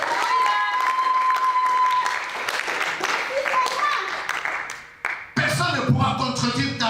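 A church congregation claps and cheers loudly and continuously, the applause swelling, dipping briefly, then resuming at full strength.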